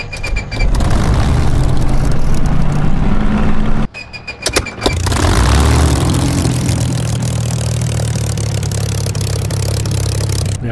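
A Spitfire IX piston engine in Microsoft Flight Simulator cranks with clattering, then catches after a brief pause and settles into a loud, rumbling, uneven idle that runs steadily.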